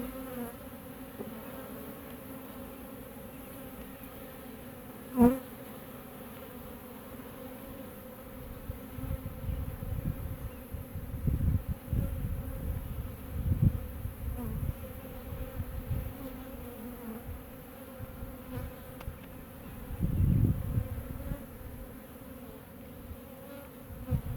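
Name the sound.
honeybees buzzing in an open hive during inspection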